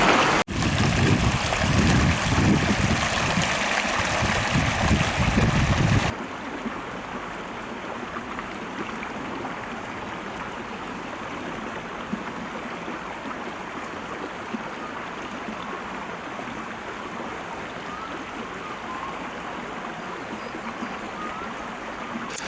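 A river or stream flows steadily at a rainy winter wild camp, a broad wash of rushing water that is loud and close for the first few seconds, then softer and more even for the rest, with no talking.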